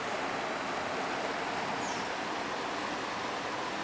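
Spring water welling up into the upper Elk River, a steady, dense rushing wash that holds constant and fairly loud throughout, with no voices.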